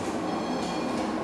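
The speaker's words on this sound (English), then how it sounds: "you can just grab that train you saw passing by right to the Caltrain station" A Caltrain commuter train passes nearby in a San Francisco neighborhood, giving a steady, loud rumble and rolling rail noise with no pause.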